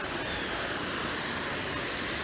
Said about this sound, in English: please enjoy this, however long section of white noise.